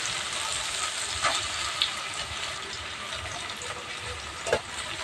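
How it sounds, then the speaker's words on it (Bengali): Chopped onions go into a pan of ivy gourd (kundru) frying in oil, making a steady bright sizzle with a few soft clicks and clinks. "এবার এর মধ্যে কেটে রাখা পেঁয়াজ দিয়ে দেবো।"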